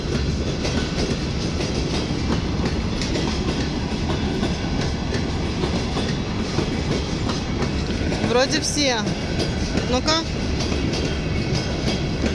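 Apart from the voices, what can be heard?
electric commuter train passing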